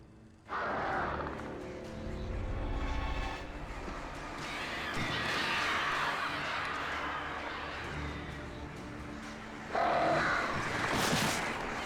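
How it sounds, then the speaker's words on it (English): Crows cawing in the video game Alan Wake, harsh repeated calls over a steady game ambience of wind and rumble, with a louder burst near the end. "I fucking hate these birds."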